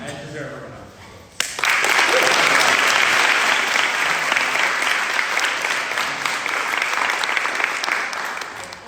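A debate audience breaks into sustained applause after faint talk at the start, the clapping swelling suddenly and holding loud and dense, then easing slightly toward the end.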